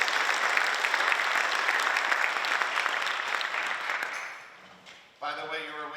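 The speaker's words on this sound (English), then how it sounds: "I think that deserves a round of applause." Audience applause at a seventh grade band spring concert in a performing arts center, full clapping that fades after about four seconds, followed by a brief tonal instrument sound.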